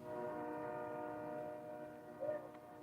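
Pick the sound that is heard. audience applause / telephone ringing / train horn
train horn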